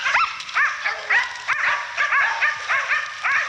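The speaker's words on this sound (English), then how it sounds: "Hear them dogs talking now." Hunting dogs bay and yip at a big black boar, a pack giving rapid repeated rising barks and whining yelps at close range, steady in rhythm with no talk over them.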